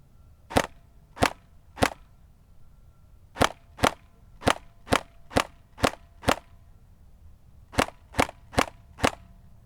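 An S&T G36C electric blowback airsoft rifle fires on semi-auto in sharp, close single cracks, three shots, then a steady run of seven, then four more after a pause, with quiet between them.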